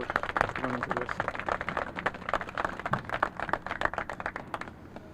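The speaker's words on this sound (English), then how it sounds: "I'd like to give them a round of applause for a lot of work running into this" An audience at a middle school topping-off ceremony in North Haven, January 2016, breaks into a steady round of applause, dense overlapping claps that hold for several seconds and then thin out.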